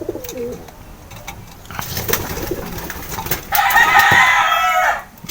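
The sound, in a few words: racing pigeons cooing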